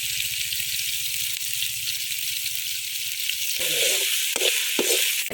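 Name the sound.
onion, green chili and curry leaves frying in pan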